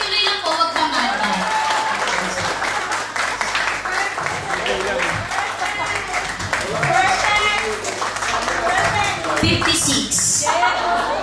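At Klub 88 a comedy crowd keeps up continuous clapping at moderate volume while someone talks through it almost the whole time.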